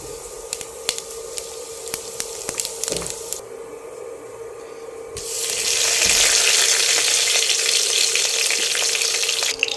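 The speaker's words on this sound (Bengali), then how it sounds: "আমি প্রথমে সর্ষের তেল দিয়ে দিয়েছি, তার মধ্যে জিরে ফোড়ন, পাঁচ ফোড়ন, তেজপাতা আর শুকনো লঙ্কা দিয়েছি" Cumin, panch phoron, bay leaf and dry chilli tempering in hot mustard oil in a pan, sharp crackles and pops at first, then a loud steady hissing sizzle swelling up and holding, close, with no voices.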